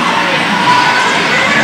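A roller derby crowd cheers after a big hit, a loud, steady wash of shouting and cheering that holds evenly across a short stretch.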